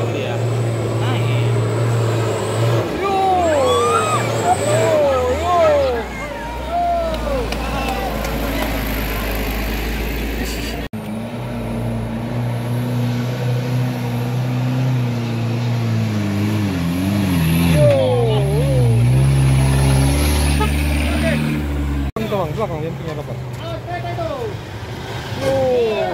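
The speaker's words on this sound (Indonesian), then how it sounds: "Bus lewat, truk" Heavy vehicles, a bus and a truck, pass on a slippery, bumpy, wavy road, their engines loud and revving with low rumbling and shifting tones throughout, under a steady roar of traffic.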